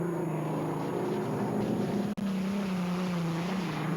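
Budweiser unlimited hydroplane racing boat roaring past during the 1984 Miami final heat, a loud, steady engine drone with one sharp momentary dropout midway.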